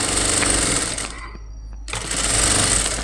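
A sewing machine stitches piping onto a lined blouse, its steady rapid whirring running loud and close, pausing briefly in the middle before starting up again.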